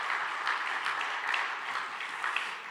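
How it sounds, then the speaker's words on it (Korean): A congregation applauds in a church during a special Thanksgiving evening prayer service, producing steady, dense clapping that holds at an even level for a few seconds, moderately distant, with no voices over it. "다시 한번 여러분 더 큰 박수로 격려해 주시고 축복해 주시기 바랍니다."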